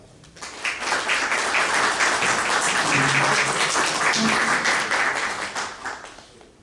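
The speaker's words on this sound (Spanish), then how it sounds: "a quien recibimos con fuertes palmas" Audience applause welcoming a guest speaker at an event, loud and sustained clapping from many hands that swells in quickly, holds steady, then tapers off, with a brief voice or two underneath.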